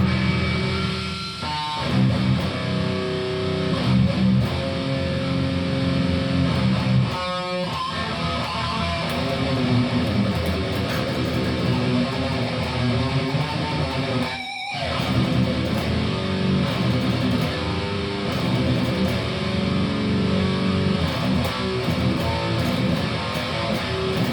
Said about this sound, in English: I'm running a Tube Screamer simulator